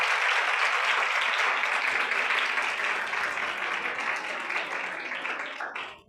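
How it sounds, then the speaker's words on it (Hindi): A church congregation at an Advent Sunday service gives enthusiastic applause after the Lutheran Sunday school children perform, a thick, continuous wash of clapping lasting about six seconds before tapering off. "एक बार फिर से ज़ोरदार तालियां संडे स्कूल के लिए।"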